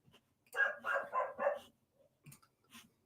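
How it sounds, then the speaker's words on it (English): A dog barks four times in quick succession, then gives a couple of softer yips, heard from another room at moderate distance, muffled and with no talking. "my dog is going mental in the background"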